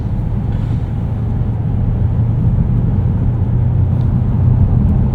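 Deep, steady engine rumble and road noise from a 2013 BMW X5 xDrive50i (E70) on the move, heard from inside the cabin, loud and continuous without any break.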